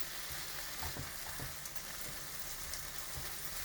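Chukka kura greens fry quietly in a pan with a soft, continuous sizzle and occasional stirring scrapes. The sound is faint and steady, with no talking, while the greens are prepared for an old-style roti pachchadi.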